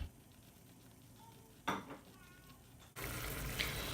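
Olive tagine being stirred in a pot, soft clinks and scraping of a utensil against the pot, faint and close, followed by a louder burst of sizzling.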